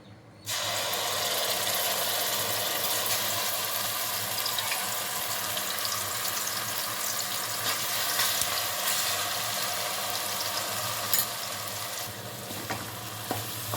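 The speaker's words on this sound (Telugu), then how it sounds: "పచ్చి వాసన పోయే వరకు ఆయిల్లో ఫ్రై చేసుకోవాలి." A ground paste of fresh coconut, onion, ginger-garlic, cinnamon and cloves frying in hot oil for an egg cauliflower curry, a steady close sizzle with stirring scrapes throughout, loud and continuous, with no voices.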